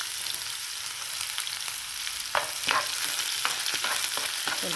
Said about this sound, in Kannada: ಈಗ ಈರುಳ್ಳಿ, ಒಂದು ಈರುಳ್ಳಿ ಹಾಕಿದ್ದೀನಿ ನಾನು.